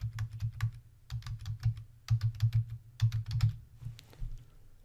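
Fingers typing credit card details on a computer keyboard: quick bursts of close, crisp key clicks in several clusters separated by short pauses, with no talking.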